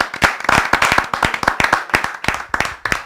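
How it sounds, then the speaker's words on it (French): An audience claps in a church service, a close, dense run of sharp hand claps keeping a quick, fairly steady rhythm throughout, with no voices over it. "Et on peut l'applaudir le Seigneur,"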